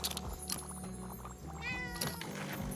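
A cat meows in the video game Tiny Bookshop, a clear, drawn-out mew near the middle. Soft game music plays underneath throughout.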